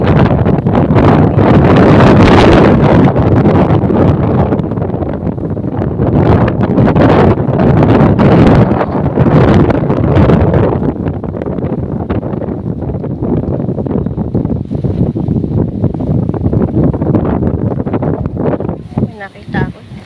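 Strong wind blowing outdoors, loud gusty buffeting against the microphone with rustling, while people talk throughout.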